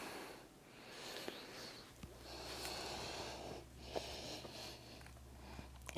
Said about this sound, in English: have a few experimental deep breaths